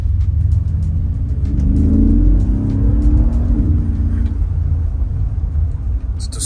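A Mercedes-Benz G 63 AMG engine growls with a deep, continuous rumble that swells slightly as it revs, loud and close, with no talking over it.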